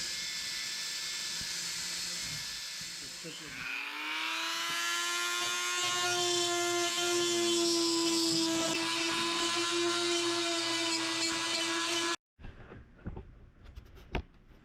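A power drill boring a pilot hole at the end of a crack in a Royalex canoe hull, close by, whining up to a steady high-pitched speed for several seconds before cutting off abruptly, followed by faint handling clatter.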